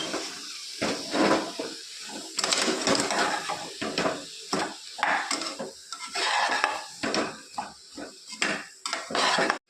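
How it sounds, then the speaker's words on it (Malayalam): Vegetables sautéed in a pan for an eggplant and potato curry, a spoon scraping and clanking against the metal in quick irregular strokes over a faint sizzle, close and without talk. "എന്നിട്ട് നല്ലോണം ഒന്ന് വഴറ്റണം"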